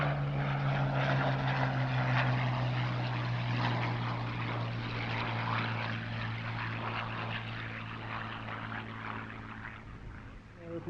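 Hawker Hurricane R4118, a warbird propeller fighter flown at Little Gransden Airshow, passes with a loud, steady engine drone that slowly fades over about eleven seconds, with faint talk underneath.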